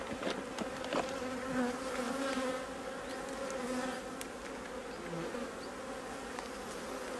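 Honeybees buzz densely around an open hive during a late-season visit, a steady droning swarm with individual bees zipping close past now and then, and no one talking.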